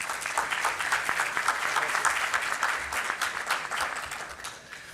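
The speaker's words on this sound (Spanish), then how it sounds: "Recibámoslo con un fuerte aplauso." A large crowd applauds at the inauguration ceremony of a construction trade exhibition, producing a full, continuous wash of clapping that holds steady and eases slightly toward the end.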